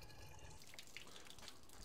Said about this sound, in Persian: این کپسول رو میخوایم بتره کنیم. اول پر آبش میکنیم.